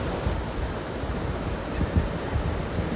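Rough ocean surf breaks continuously at Port Aransas beach in Texas, a steady, loud wash of churning water and wind with faint swells rising in the noise and no talk.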